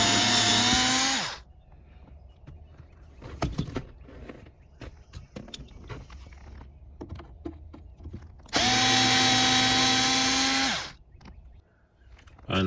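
Power drill running in two long bursts to back out Phillips head screws from the center console of a 7th gen Nissan Maxima, with quieter clicks and handling noises between the bursts.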